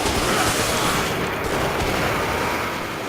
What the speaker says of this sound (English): Okay, somebody's shooting at somebody. Oh, they're shooting over here.